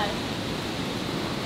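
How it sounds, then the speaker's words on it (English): Niagara Falls thunders in a steady, broad roar of falling water, loud and unbroken from up close, with no gaps in the rushing noise. "Literally, right behind me is the waterfall."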